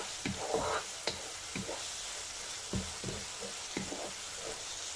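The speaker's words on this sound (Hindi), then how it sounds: "अब हम इसको 2 मिनट तक इसी तरह भूनेंगे मसालों के साथ" Chicken keema frying with spices in a pan, a soft constant sizzle broken by sharp clacks and scrapes of a spoon stirring at irregular intervals, close and fairly quiet, no voices.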